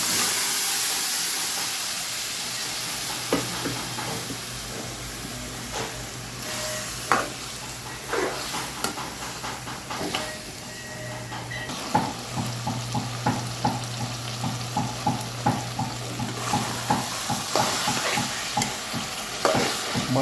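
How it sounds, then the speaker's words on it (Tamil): Cooked mutton stir-fried for mutton sukka, a continuous loud sizzle with a low hum behind it and a run of repeated scraping ladle strokes that grow busier toward the end. "வேக வச்ச கறி சேர்த்துருக்காங்க."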